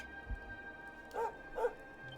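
Dog in the video game Dragon Quest 11 gives two short, quiet yipping barks in quick succession over a faint, low game ambience.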